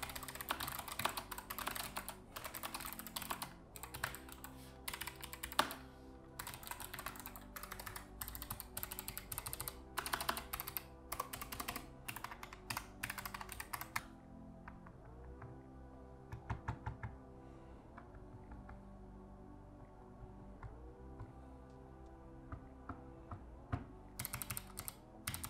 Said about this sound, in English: Let's quickly go over the sound test